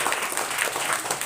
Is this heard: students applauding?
yes